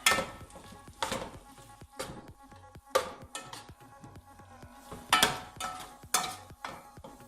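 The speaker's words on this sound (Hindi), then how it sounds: "टमाटर ऐड करने के बाद थोड़ा सा आपने इनको मिक्स करना है।" Chopped tomatoes are stirred into an Afghani omelet pan of eggs and potatoes, a soft sizzle under irregular spoon scrapes and clinks in uneven bursts, close and moderately loud, without speech.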